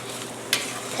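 Garlic and mushrooms sizzling in a pan over high heat, with a brief sharp scrape of a utensil across the pan midway, then steady frying hiss continuing close and moderately loud.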